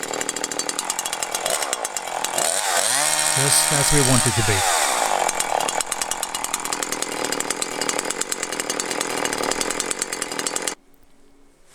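A Husqvarna 345 chainsaw engine runs loud and close, its buzzing note rising and falling through a few throttle changes before stopping abruptly near the end, with someone talking over it.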